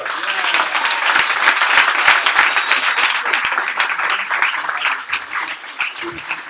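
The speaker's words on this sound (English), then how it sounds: "Another round of applause because it wouldn't have happened." A crowd applauds loudly and steadily at a fintech startup weekend event in Sydney, dense clapping filling the room and tapering slightly toward the end.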